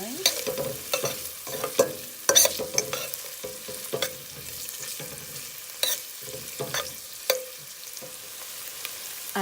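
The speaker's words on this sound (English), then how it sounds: "Now I'm going to add the oregano. Continue stirring." A sautéed mixture with oregano is stirred in a pot while making seasoned yellow rice and red beans, heard as repeated spoon knocks and scrapes with a faint sizzle underneath and quiet gaps between strokes.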